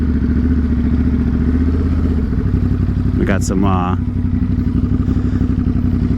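A motorcycle engine rumbles steadily nearby, with a brief rising whine partway through, while someone talks over it.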